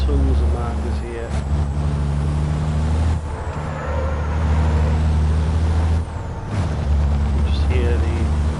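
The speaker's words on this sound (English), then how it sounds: "You just hear the truck easing on the power." A racing truck at an FIA European truck race, its loud, deep engine drone steady and close as it eases on the power, with brief dips in the roar.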